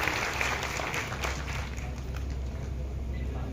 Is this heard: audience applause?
yes